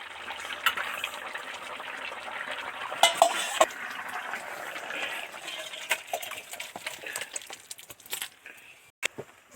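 A pot of village-style vegetable curry is stirred with a metal spoon and lifted off the stove, with scraping, clinks and a sizzling background, then louder knocks near the end.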